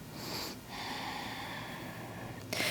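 Slow, audible breaths during a yoga sun salutation: a long drawn inhale or exhale that holds steady for a couple of seconds, framed by sharper airy bursts at the start and end, close and quiet with no talking.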